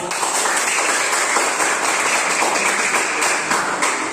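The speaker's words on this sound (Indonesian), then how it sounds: "Ya, tepuk tangan." Classroom applause from students, a steady dense patter of many hands clapping at moderate level, sustained throughout with no pauses.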